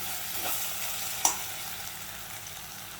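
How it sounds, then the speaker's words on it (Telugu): Dried prawns and onions fry in oil with a soft, steady hiss, close by, and one brief clink of a utensil against the pan partway through; nobody speaks. "ముందుగా ఈ ఎండ్రాయిల్ని ఆనియన్స్ కూడా వేసి దీన్ని ఫ్రై చేస్తున్నాను"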